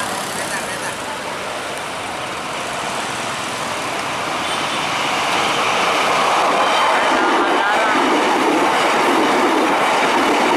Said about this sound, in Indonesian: Persiapan nih kereta bandara melintas langsung.